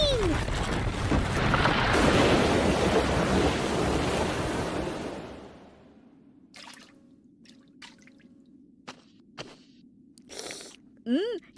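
A cartoon sea surges with a loud, rushing wash of waves for about five seconds, then drops away to near silence broken by scattered drips, soft splashes and brief whistling cartoon effects.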